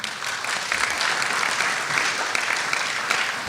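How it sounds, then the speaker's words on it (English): An audience at a Nigerian budget event gives steady, moderately loud applause, a continuous rush of clapping hands without a break. "And I like that applause"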